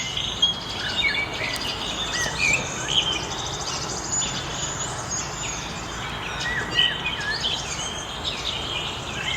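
A blue jay calls from outside a house in New York in the evening, giving scattered bright chirps at moderate distance over a constant bed of insect and cricket buzz.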